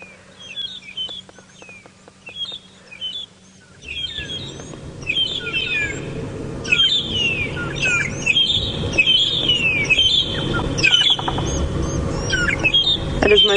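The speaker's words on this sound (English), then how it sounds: "There are some magpie shrikes, though, just sitting at the top of the tree over there, and they're actually making a beautiful call this morning." Magpie shrikes calling from a treetop in the African bush at sunrise, a repeated series of clear, whistled phrases that grows fuller and louder after a few seconds, with several birds overlapping over a low engine-like hum.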